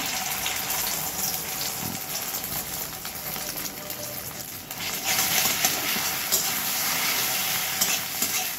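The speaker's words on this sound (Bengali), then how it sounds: "ডিমটা ভেজে নেব।" Egg frying in white oil in a wok, a steady close sizzle and crackle with stirring scrapes throughout, growing a little louder partway through, with no talking.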